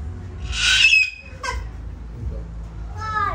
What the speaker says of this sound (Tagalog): African Grey Parrot.